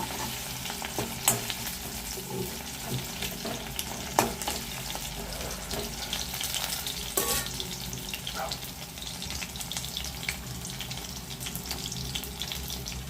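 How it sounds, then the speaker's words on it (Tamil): Bitter gourd 65 deep-fries in hot oil in a kadai, a steady close crackling sizzle with occasional sharper pops throughout. "கடாயில் எண்ணெய் வச்சு போட்டிருக்கேன். அப்படியே நம்ம வறுத்து எடுக்கலாம்."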